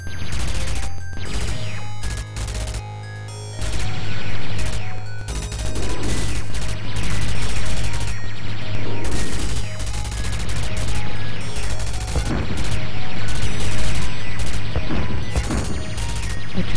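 Units exploding in a Dune 2 real-time strategy battle: dense, continuous bursts of crashes, blasts and gunfire over a steady low hum, loud throughout with one brief lull near the start.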